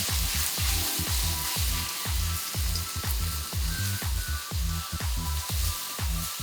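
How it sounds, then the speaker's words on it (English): Pork sizzles and fries steadily in oil in a hot pan over medium-high heat, with a regular rhythm of scraping stir strokes about every half second running throughout, close and fairly loud. "Add the pork and stir-fry it over medium-high heat."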